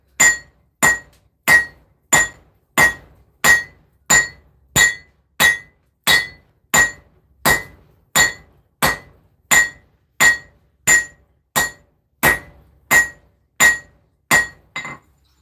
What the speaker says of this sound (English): let's grab the knife, pull it out, and go back to forging. Cross peen like usual.